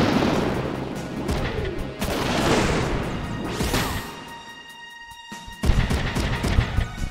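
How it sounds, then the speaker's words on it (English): A grenade blast in the video game Front Mission 3 roars out as a loud, rumbling crash followed by rattling debris. A second burst of impacts hits near the end. "another one I can use a grenade on"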